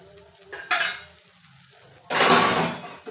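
Thin dosa batter hits a hot griddle with two bursts of sizzling hiss, a short one early and a longer, louder one later, with quieter scraping and clatter between.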